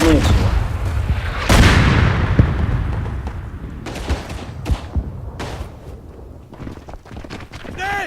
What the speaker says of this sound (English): That mortar did kill me.